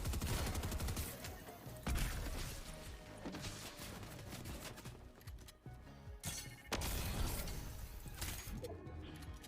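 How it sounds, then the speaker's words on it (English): Dense, rapid gunfire and impacts from a shooter video game, continuous bursts and crashes filling the whole stretch at moderate loudness, with no talk over them. "Someone's shooting me over here."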